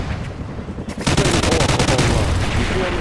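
A minigun firing in Call of Duty Vanguard, a close, loud continuous rapid burst that kicks in about one second in and roars on steadily to the end after brief scattered shots.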